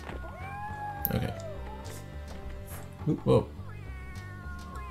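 A cat meows in the stealth video game Tenchu: Stealth Assassins, several short calls rising over steady game music, with a person briefly exclaiming in between.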